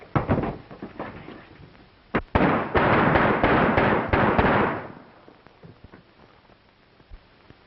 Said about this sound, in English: let's riddle him with bullets